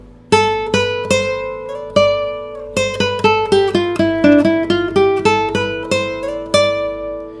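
So Kimichima Stella classical guitar plays a run of plucked treble notes, each ringing with bright harmonics and a short decay, close and clear with no talking, moving through a quick melodic phrase after a few spaced opening notes.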